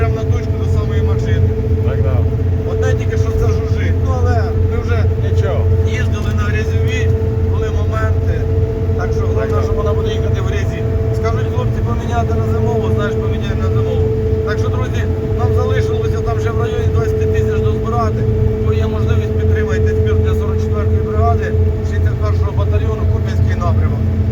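Steady engine drone and road rumble from a car driving along a highway toward Kyiv, continuous and close from inside the cabin, with people talking over it throughout.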